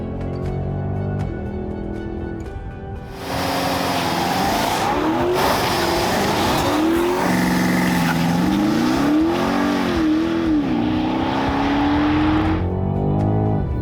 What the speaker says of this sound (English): you'll really feel its turbocharged V8 that pushes out 523 horsepower